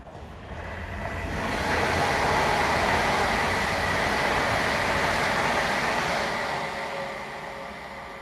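An Avanti passenger train passes close by, its rumble and rushing noise swelling to a loud steady roar, then slowly easing away.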